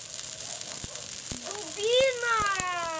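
An outdoor bonfire by a house crackles with sharp, scattered pops and snaps, moderately close, while a voice talks over part of it.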